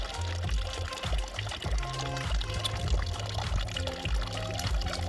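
Water pours from a tap in the Black Forest, a continuous splashing gush close by with uneven gurgling pulses throughout.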